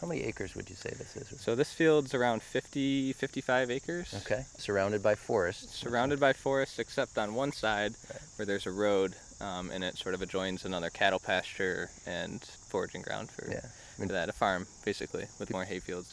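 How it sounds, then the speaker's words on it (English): Crickets call steadily in an old hayfield ringed by forest in New York State, a thin, continuous high chirring that runs faintly beneath a conversation between two people. "And people can hear the crickets calling."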